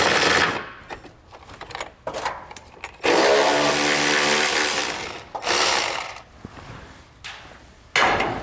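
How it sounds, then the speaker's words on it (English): A 10mm socket spins a nut off a stud beside the heat shield under a 2018 Ford Escape during a trailer hitch install. Close, loud bursts of mechanical whirring and ratcheting come in short spurts, then one sustained two-second run, with no talking. "We're gonna remove the nut from that stud with a 10mm socket."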